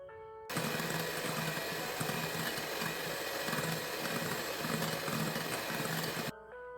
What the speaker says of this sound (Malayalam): ഇനി വീണ്ടും ഒന്ന് നന്നായിട്ട് ബീറ്റ് ചെയ്തെടുക്കാം